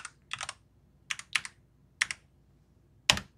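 Short bursts of keystrokes on a computer keyboard as a file name is typed, several quick clusters of clicks separated by pauses, close and alone in a quiet room.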